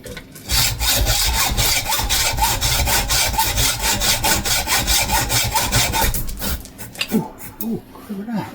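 A hacksaw cuts back and forth through a soft metal part of an antique hoist, making rapid, rhythmic rasping strokes close up for about six seconds before stopping, with scattered handling knocks and a brief voice afterward.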